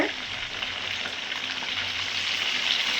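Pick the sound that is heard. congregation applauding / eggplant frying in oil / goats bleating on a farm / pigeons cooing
eggplant frying in oil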